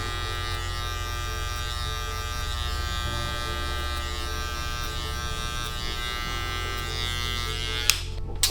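Electric hair clipper buzzing steadily and close up while cutting hair for a high skin fade with guards, a continuous motor drone with slight shifts in pitch as it moves, running without any talk.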